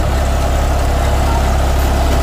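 A New Holland 3630 Plus 4×4 tractor pulling a sugarcane planter, engine droning steady and loud with a deep low rumble throughout, no voices over it.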